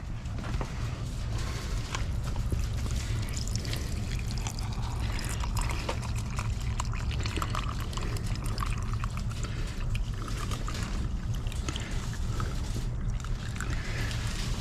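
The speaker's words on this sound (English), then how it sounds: "But I got to fill the water up to the fill line here." Water pours steadily into a carton of hashbrowns up to the fill line, a continuous close splashing rush with no one speaking over it.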